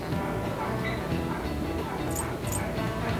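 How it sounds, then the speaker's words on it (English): Dogs bark and whimper in short yips, fairly distant and partly buried under a dense, noisy background bed. "those dogs just won't shut up"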